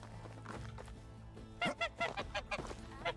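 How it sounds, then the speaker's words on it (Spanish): A goose honks repeatedly in a video game with wolf attacks, a rapid run of loud nasal honks close up over steady game background sound. "Un ganso, tío, y llamarlo Paco."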